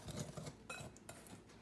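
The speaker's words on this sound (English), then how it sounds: "It's going to go into the batter. Okay. Whisk that." Peach cobbler batter with sugar being whisked in a bowl, giving a soft, close scraping and clinking of utensil against the dish in short uneven strokes, with no talking.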